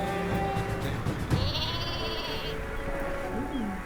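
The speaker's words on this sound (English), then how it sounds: "I'm gonna go for my own super sheep." A cartoonish super sheep bleats in the video game Worms W.M.D., a couple of short wavering baa calls over a busy game soundscape with music and effects underneath.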